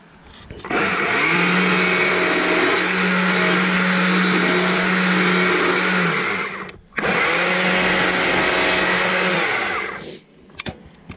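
A chainsaw cuts into wood while carving a small owl, a loud steady whining roar that runs for several seconds, drops out briefly, then resumes before cutting off, close and with no talking.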